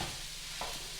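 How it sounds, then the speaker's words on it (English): Chorizo frying in a pan, a soft, quiet steady sizzle with a brief stirring scrape partway through and no talking. "while Brian is frying up the chorizo"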